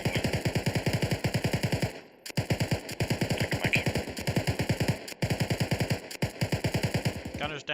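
A SAW light machine gun fires in a military video game, long rapid bursts with short pauses between them, loud and close, repeating several times.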